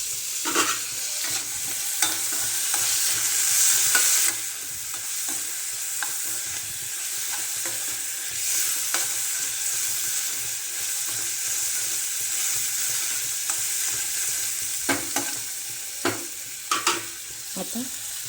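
Cauliflower and tomato sabzi sizzles steadily in a pan while a spoon stirs it, with occasional scraping clinks against the pan, close and continuous with no talking.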